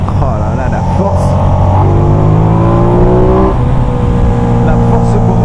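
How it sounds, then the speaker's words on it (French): A Ducati XDiavel Black Star motorcycle engine revs hard close by, its pitch climbing through the gears in a loud, steady roar, around 5000 rpm in third, with the exhaust popping. "Ah, l'échappement commence à péter."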